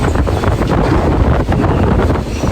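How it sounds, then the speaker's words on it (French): Strong gusty wind sweeps over a catamaran moored in a Ligurian marina, a loud, continuous roar with heavy microphone buffeting and rumble, and no voices. "Là, ça souffle quand même fort là. Il y a des rafales assez violentes."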